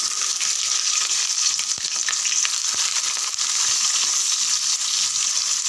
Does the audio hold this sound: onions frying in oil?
yes